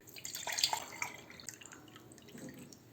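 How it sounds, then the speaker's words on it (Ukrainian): Water poured from a tap into a small Turkish coffee pot (cezve) at home, a soft trickling and dripping splash that is loudest early, then fades to a quieter, thin trickle. "берем турку. Далі в неї наливаємо води."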